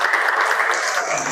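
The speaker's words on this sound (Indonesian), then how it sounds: "Tepuk tangan buat Budi." Loud, close group clapping rings out for a participant named Budi after a backward roll exercise, a brief, even burst with no talk.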